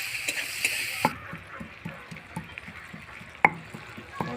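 Onions for a chicken and potato curry go into a pan, bringing a quiet sizzle broken by sharp clinks and scrapes of a utensil against the pan.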